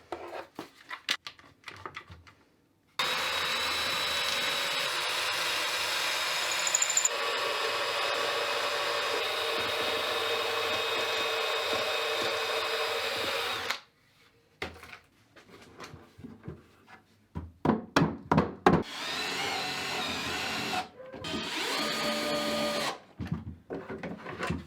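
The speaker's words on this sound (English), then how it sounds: "So I'm done with the heat gun and now sanding." A power sander on wooden furniture whirs in a long continuous burst, then stops; after a pause come shorter bursts of sanding and handling noises.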